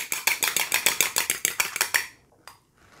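Pizza rustica dough stirred briskly in a bowl after a splash of cold water; quick, even, rhythmic strokes, about seven a second for two seconds, then a pause and a lone faint knock.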